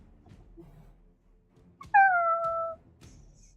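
A single high, thin mewling cry like a small kitten rises out of quiet background, lasting under a second; a voice imitating the sound of mewling kittens.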